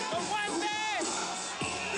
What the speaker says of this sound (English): Let's listen to the crowd. They are going nuts down there.